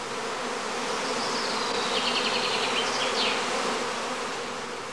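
A dense, steady hum of swarming honey bees clustering on branches, gathering into a new cluster during skep beekeeping, fills the air close by without a break and without voices.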